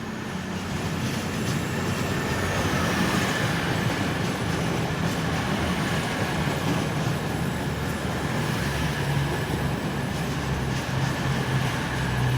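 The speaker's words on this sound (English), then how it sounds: "22014, that's taken away the 1312 East Midlands Railway" An East Midlands Railway train on the 13:12 service to London pulls out of Nottingham station, a steady loud rolling rumble with faint wheel squeal and rail clatter throughout.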